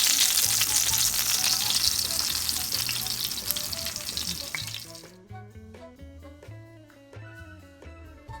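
Breaded steak frying in hot oil gives a loud, dense sizzle for about five seconds, then the crackle drops away and light kitchen clatter and taps continue.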